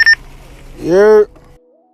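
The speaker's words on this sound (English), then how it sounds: "that one sound you just heard was a chirp from a Boost mobile phone" A Boost Mobile phone gives a single short two-tone chirp, loud and close, followed by a brief sung-sounding voice and a faint tone.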